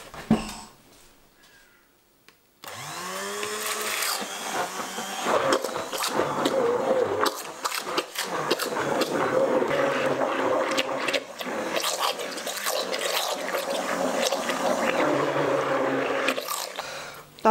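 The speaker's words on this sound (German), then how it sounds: "Und das tue ich jetzt mit dem Pürierstab mixen." After a quiet start, an immersion blender churns wet paper pulp in water, making a loud, continuous whirring and sloshing that runs unbroken for about fifteen seconds.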